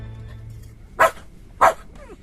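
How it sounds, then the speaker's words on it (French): Two sharp, loud dog barks ring out about half a second apart in an audiobook of the Tintin story Les Cigares du Pharaon, after a faint low hum. "C'est le chien."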